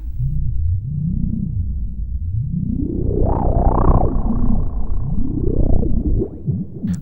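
A buzzy tone from an Erica Synths Black Joystick 2 setup, an oscillator frequency-modulated by an LFO, its pitch sweeping slowly up and down in wobbling arcs, steady and loud throughout.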